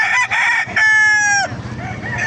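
A hatch fighting rooster, a 3.5-year-old Black Spartan SBR line bird at a gamefowl farm in Bocaue, Bulacan, crows once loud and close. Clucking and other fowl noises come before and after it.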